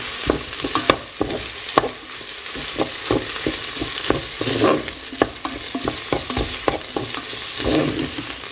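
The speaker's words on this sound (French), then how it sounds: "je vais rajouter la cuillère de tomates concentrées et je vais mélanger" Fried onions and tomato paste get stirred in a hot pan, a spoon scraping and tapping in uneven strokes over a continuous close sizzle, with no voices.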